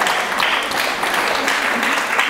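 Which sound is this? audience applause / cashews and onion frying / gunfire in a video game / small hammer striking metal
audience applause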